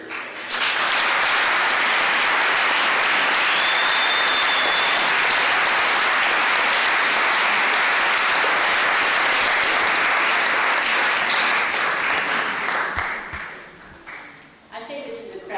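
Sustained, loud audience applause at a public forum on crude oil transport, dense clapping filling the room for about thirteen seconds before thinning and tapering off near the end.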